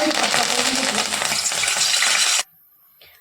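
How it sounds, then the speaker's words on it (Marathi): Curry leaves fry crisp in hot oil for puffed-rice chivda, a dense close sizzle with stirring that cuts off abruptly, leaving near silence. "अशा पद्धतीने आपला कुरकुरीत असा कढीपत्ता तळून घ्यायचा"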